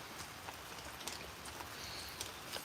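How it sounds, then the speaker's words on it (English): Steady rain at an outdoor shooting range, a soft continuous patter of drops with scattered brighter taps, faint and even throughout with no other sounds. "it's raining at the moment"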